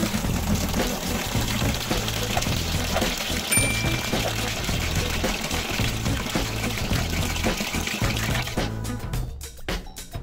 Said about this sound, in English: I'm gonna put them in, fill it with some white vinegar